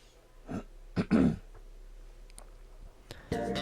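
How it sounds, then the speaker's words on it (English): Someone clears their throat several times in short, rough bursts, close and fairly loud, followed by quiet and a low background hum. "I really had to clear my throat there for a moment."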